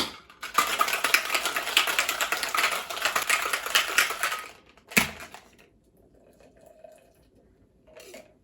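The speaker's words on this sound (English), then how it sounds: "So we're gonna shake it up. Shake hard for about 10 seconds." Ice rattles hard inside a cocktail shaker as a classic daiquiri is shaken, a loud, rapid, continuous clatter for about four seconds, ending in a sharp knock, followed by quiet and a faint clink.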